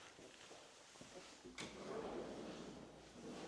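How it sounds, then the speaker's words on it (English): A trash can drawer in a luxury home's kitchen is pulled, with a quiet slide, a short knock, and a soft rolling whoosh as it moves and settles. No talking is heard. "Trash can drawer."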